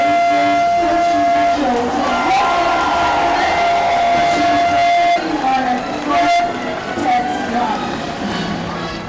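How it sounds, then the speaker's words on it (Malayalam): A Kochi Metro train runs on a depot trial, a steady rumble of rolling stock joined by a sustained horn tone that then cuts off. Crowd noise and voices sit underneath. "കൊച്ചി മെട്രോയുടെ പരീക്ഷണ ഓട്ടത്തിന് തുടക്കം"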